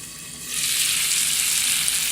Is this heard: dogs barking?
no